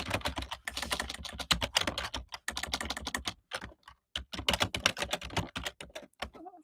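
Typing on a computer keyboard, close and crisp bursts of rapid key clicks with short pauses between words, no talking.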